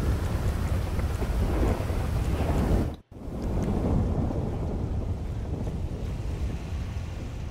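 Steady, loud rain and rumbling thunder from a GTA V game environment, a continuous wash of storm noise broken by a brief cut before it resumes just as dense.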